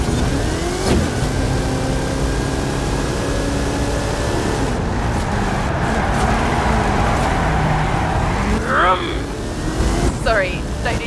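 A car engine in Forza Horizon 5 roars continuously at close range, a dense steady drone with shifting pitch sweeps and a brief rising whine near the end.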